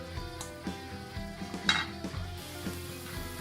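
Onion softening in a cast iron pan makes a gentle, close sizzle, with scattered scrapes and a sharp metallic clink or two as it gets pushed around.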